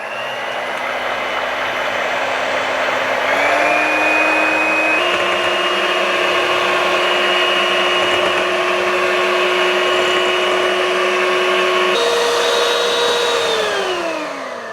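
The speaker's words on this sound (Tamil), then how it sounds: "முதல்ல இந்த 8 முட்டையையும் வந்து நல்லா அடித்து வச்சுக்கொள்ளுவோம்." An electric mixer beats eight eggs for a vanilla butter cake, a loud, steady motor whine that shifts pitch in steps as the speed changes, then winds down at the end, with no voices.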